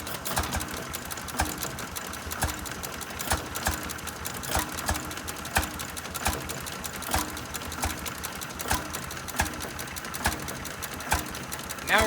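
Antique Bessemer generator set engine running at a show, speeding up slightly after warming up: a steady mechanical clatter with regular rhythmic firing beats, fairly close and continuous with no voices.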